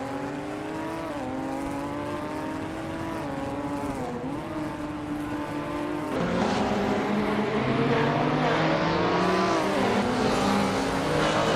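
Several race cars in a Mazda MX-5 Cup racing game drone past together, engines whining at high revs in a dense, continuous pack that swells louder halfway through, with no talk.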